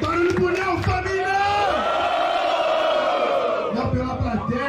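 Crowd at a Brazilian rap battle roars and shouts for a rapper in a dense, sustained wall of voices, with yells rising above the din and swelling again toward the end.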